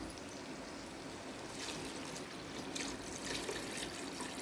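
Water pours steadily into a pot of rice for jeera rice, a soft continuous rushing splash that swells slightly midway, with no voices.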